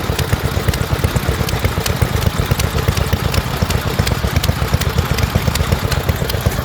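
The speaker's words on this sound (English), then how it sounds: "Another Lister D, this is an earlier one with a shaft drive and the D309 cylinder head and the different fuel tank driving the water pump." An earlier Lister D stationary engine with shaft drive and D309 cylinder head runs steadily at a vintage rally, driving a water pump, its rapid even thumping beat close and loud throughout.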